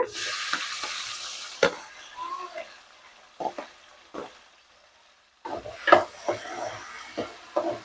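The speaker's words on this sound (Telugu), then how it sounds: "ఉల్లిపాయ అయితే చక్కగా దోరగా ఫ్రై అయిపోయిందండి చూసారా ఇలా అయితే ఫ్రై చేసుకున్న తర్వాత టమాటా కూడా వేసేసుకుంటున్నా" Onions and tomatoes frying for a cucumber mutton curry, soft sizzling broken by sharp spoon knocks and stirring scrapes against the pan, with a short quiet gap before the clatter resumes.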